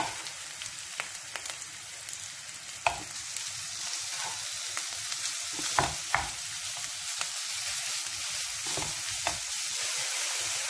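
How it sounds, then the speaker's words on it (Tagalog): Meat frying in a pan on low heat, giving a continuous close sizzle with frequent crackles and several sharper clinks and scrapes as it is stirred, with no voices. "Itabi at ilagay yung karne."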